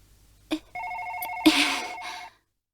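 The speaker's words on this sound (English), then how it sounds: "the phone rings, breaking the tension with a subtle nod to classic spy action movies like James Bond" A telephone rings in the Policenauts video game, a clean electronic trill that sounds after a brief click and holds for about a second and a half before cutting off, with no talk.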